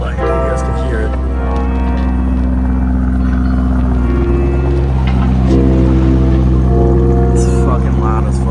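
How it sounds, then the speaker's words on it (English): A Lamborghini Urus in Corsa race mode drones deep and loud, its engine pitch stepping up twice as it revs. Voices can be heard faintly alongside. "Corsa is race mode. And that's a fucking loud. That's the loudest mode there is."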